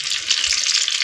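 Mustard seeds frying in oil for khichdi give off a dense, bright, continuous sizzling hiss, loud and close, with no pause through the brief moment.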